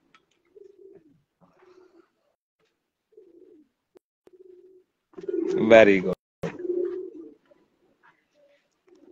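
Rare black-mouthed Sialkoti pigeons coo softly in short low murmurs, then a louder, fuller coo swells up near the middle before fading back to quiet; someone speaks briefly.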